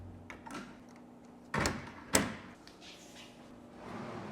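A large wooden cabinet pocket door is clipped into place, giving two sharp knocks about half a second apart amid faint shuffling and handling noise in a quiet room.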